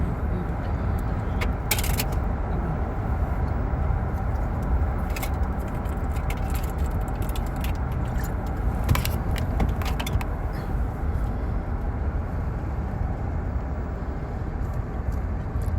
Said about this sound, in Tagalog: Traffic is real.